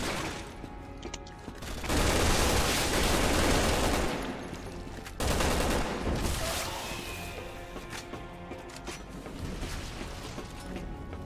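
Heavy bursts of gunfire from the video game Resident Evil 6 in co-op play, dense and loud in two sustained volleys with a brief lull between, then quieter scattered shots and game noise.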